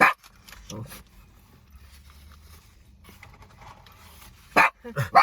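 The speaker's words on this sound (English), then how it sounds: "Another dog is walking outside and distracting the pups." Dogs bark sharply a few times nearby, a burst at the start and a cluster near the end, with quiet panting and rustling between.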